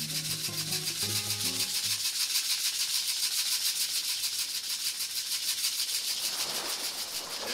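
A shaker is played with a rubbing, swishing rhythm, a close, continuous pulsing shuffle, while a soft melodic tone plays briefly underneath at the start.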